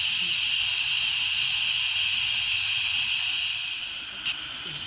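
A pressure pot cooking braised duck with black mustard greens vents steam in a loud, steady hiss that runs without a break and eases slightly near the end.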